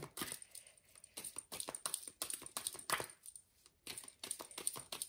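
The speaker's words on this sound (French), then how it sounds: "on va commencer avec l'oracle G. Donc, je mélange les cartes" Oracle cards shuffled by hand at close range, giving a run of crisp, papery riffling bursts with short pauses between them and no talk.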